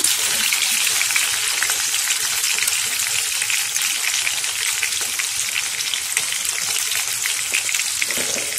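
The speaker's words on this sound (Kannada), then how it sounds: "ಫ್ರೈ ಆಗ್ತಿದ್ದಂಗೆ ಈರುಳ್ಳಿ ಆ್ಯಡ್ ಮಾಡೋಣ." Onions frying in hot oil and butter with whole spices for capsicum tava pulao, a loud, close, continuous crackling sizzle that holds steady throughout with no pauses.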